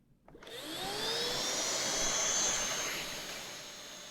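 A Miele Duoflex HX1 cordless stick vacuum switches on and spins up to a steady airy whine with a high motor tone, then holds, softening slightly near the end.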